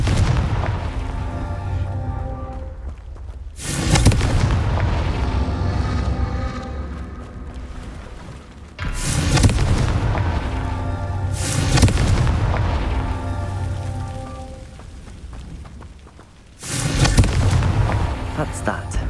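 Fiery spell blasts from a Hogwarts Legacy duel, three loud booming explosions spaced a few seconds apart, each with a sharp onset and a rumbling decay, over continuous game background sound.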